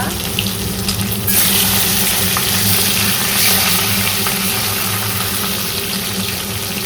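Fish heads fry in hot oil with a steady, loud broadband hiss and crackle that runs without a break, swelling slightly after the first second, with no voices.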